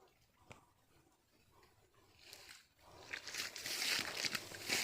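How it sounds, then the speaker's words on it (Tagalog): Water flows down from a dam past grafted lanzones trees on a farm, a rushing, splashing hiss that starts faint and swells louder toward the end. "dumadaloy pa yung tubig na galing doon sa dam oh"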